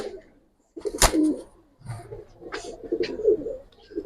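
A Giribaz-type pigeon among army, lalpatti, silver and khaki birds coos in low throaty phrases, close and fairly loud, with a sharp click near the start and short gaps between calls.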